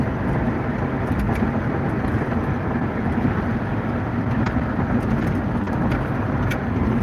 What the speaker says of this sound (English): Astro-Van's purring like a kitten